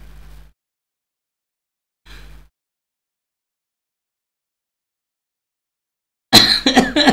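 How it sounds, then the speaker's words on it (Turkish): A man coughs twice in short, muffled bursts separated by silence during an illness. Louder speech from him follows near the end. "ya öksürük tutuyor"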